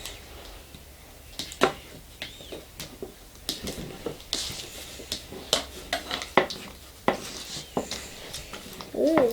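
Slime ingredients with corn syrup and starch being mixed in a bowl, producing scattered clinks, taps and sticky scraping strokes at an irregular pace, fairly close and moderately quiet.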